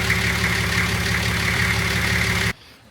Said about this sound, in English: we just got the engine running